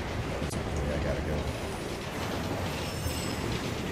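Train rumbling past in the Assassin's Creed Unity video game, a steady low continuous roar with faint metallic squeal, heard alongside game ambience.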